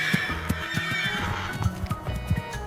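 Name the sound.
horse neighing and hooves clip-clopping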